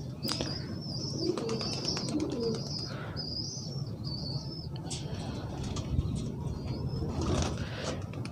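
Young pigeons bred at a pigeon club in Sialkot give soft repeated cooing and chirping calls, fairly close, while a low background murmur continues.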